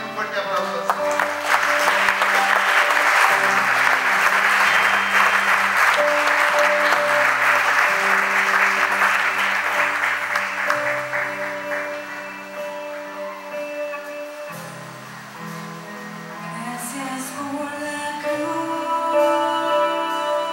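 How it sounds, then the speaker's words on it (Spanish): Sustained applause from a church congregation during a Lord's Supper service, a dense wash of clapping under steady organ or keyboard chords and music, fading slightly near the end. "Dale nuevamente un fuerte aplauso al Señor."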